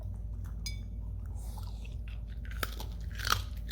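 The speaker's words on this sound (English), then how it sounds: "Love that crunch. That pork skin." Close-up biting and chewing on crispy smoked pork belly skin, with a few sharp crunches that grow louder near the end over a low steady background hum.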